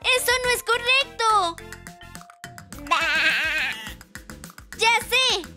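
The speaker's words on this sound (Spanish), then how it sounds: "¡Ese es el sonido de la oveja!" A cartoon sheep bleats in repeated wavering cries, a bright and close sound that comes in several bursts amid a children's song and its backing music.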